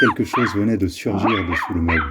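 A dog barks and yips as a sound effect in a French audiobook, several short yelps mixed closely under a narrator's continuous voice.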